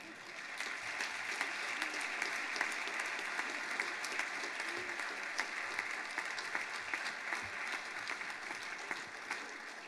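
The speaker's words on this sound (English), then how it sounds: "Let's give one final last round of applause to our wonderful award recipients." Sustained audience applause for award recipients at an alumni awards reception, a steady even wash of many hands clapping from start to finish.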